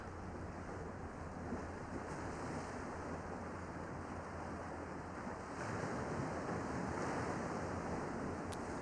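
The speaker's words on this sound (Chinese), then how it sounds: "现在我坐在海边" Sea waves wash against the seashore in a continuous soft roar of surf, steady and fairly faint with some wind rumble, swelling slightly louder toward the end.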